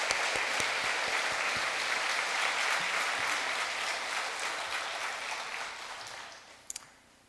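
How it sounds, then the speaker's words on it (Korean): Congregation applauding in a church during a sermon, a steady dense wash of many hands clapping that fades out over the last seconds, with a couple of sharp claps at the end. "박수로 한번 좀 하나님 앞에"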